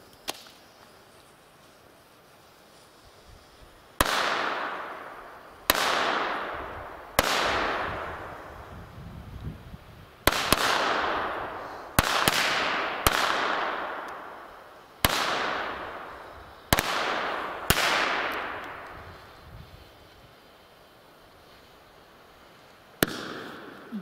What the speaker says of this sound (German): Das waren jetzt gerade A-Böller.